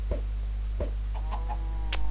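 Blocky chickens cluck in a Minecraft game, a few short soft clucks spaced apart over a steady low background hum, followed by a brief sharper squawk near the end.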